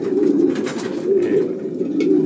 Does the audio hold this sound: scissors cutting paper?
no